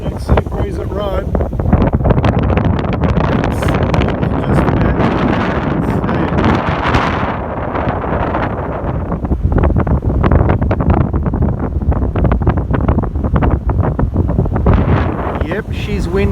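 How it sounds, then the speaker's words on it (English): A strong afternoon sea breeze at the beach near Robe, on the sand by Nora Creina, roars steadily as heavy wind buffets the microphone and creates constant, loud turbulent noise for the whole stretch. "Yep, she's windy out here"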